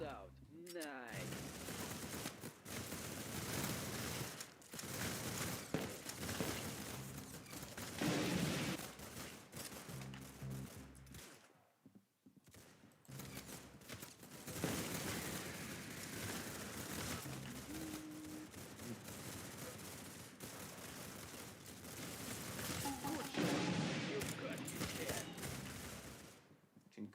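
A concussion rifle fires repeatedly in a video game, heavy booming blasts in irregular bursts over about half a minute, mixed with game sounds and a voice speaking now and then.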